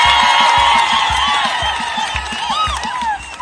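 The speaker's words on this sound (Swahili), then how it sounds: "tumpigie makofi." A large crowd at a bishop's episcopal installation in a sports complex cheers and whoops loudly, with rhythmic thumping beats beneath and rising shouts, the roar continuous and close.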